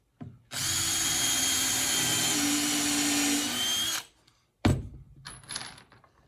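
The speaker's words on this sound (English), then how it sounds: "I'm going to take the drill and I'm going to pre-drill a hole through the top piece" A power drill bores a pilot hole through the top board of a wooden Adirondack chair kit, a steady whine of about three and a half seconds followed by a short rattling burst and clatter.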